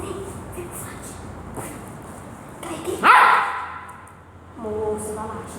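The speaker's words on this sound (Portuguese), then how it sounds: "vai latir" A dog barks and yips in short bursts, one louder sharp bark standing out among softer whimpering sounds, close by with people talking around it.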